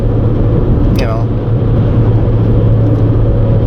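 A 2018 Chevrolet Sonic cruising on a highway with a steady, loud engine and road drone inside the cabin, plus a brief rising whine around the downshift.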